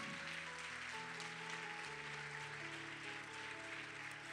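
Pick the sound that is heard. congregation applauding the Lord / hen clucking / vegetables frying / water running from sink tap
congregation applauding the Lord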